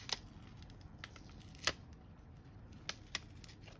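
Quiet paper handling as a sticker-sealed vellum envelope is peeled open, with a few sharp crinkles and tears spaced across the moment over a low background hum, no talking.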